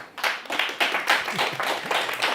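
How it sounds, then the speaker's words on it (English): Applause at an awards ceremony for a season of competition, heard as a sparse group of people clapping in uneven, rhythmic bursts, moderately loud and close, with no talking over it. "So give yourselves a round of applause"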